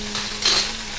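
Urad dal, cumin and a single green chili frying in a pan for a tempering, giving a steady close sizzle that swells briefly in the middle, with a faint stir; nobody speaks.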